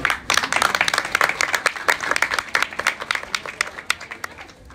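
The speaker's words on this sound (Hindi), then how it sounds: "फिर से तालियां क्यों नहीं बजाते" An audience claps at a religious gathering, a loud, uneven volley of individual sharp claps close by, quickening into a brisk ragged rhythm and continuing without a break.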